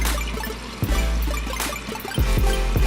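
A makeup brush is rinsed under a running tap, a steady stream of water with splashing drips and gurgles as the bristles are flushed through.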